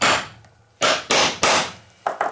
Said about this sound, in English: Hit it a few times with a hammer